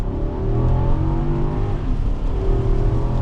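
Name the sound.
2024 Infiniti QX80 V8 accelerating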